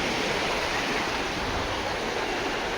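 Sea waves wash steadily onto the shore at Gopalpur beach in Odisha, near the port, making a loud, continuous broadband roar of surf with no breaks and no voices.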